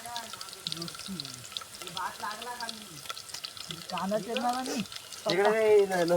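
Garlic sizzles and fries in a pan as chicken curry is cooked outdoors beside a river, a soft, steady hiss running faintly beneath people talking and laughing close by.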